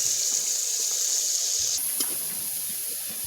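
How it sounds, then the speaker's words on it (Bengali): A small amount of water goes into a cooking pan of onion, chili and spices for a bean and potato fry, giving a steady close hiss and sizzle, with a brief splash partway through. "সামান্য জল দিয়ে দিলাম"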